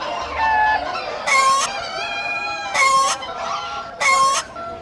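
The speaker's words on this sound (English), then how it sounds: "The chicken coop." Chickens in a coop cluck and squawk in three loud, evenly spaced bursts with softer clucking between them, heard close and alone.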